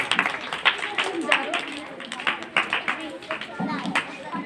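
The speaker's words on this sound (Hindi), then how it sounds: "सर का ताली बजाएंगे" A crowd of schoolchildren claps in a loose, continuous patter to welcome a guest speaker at a January 26 school ceremony, with some voices mixed in.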